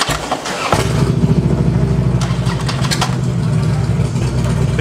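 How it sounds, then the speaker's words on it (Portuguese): A motorcycle engine kicks in abruptly and rumbles loudly close by on a Mexico City street, holding a steady throbbing drone to the end. "Barulho da moto, tá maravilhoso."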